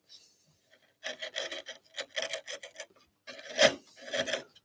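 A Japanese handsaw rasps through wood in short, quick strokes down toward a scribe line over plywood, the bursts coming close and moderately loud with brief pauses between them, and no voice.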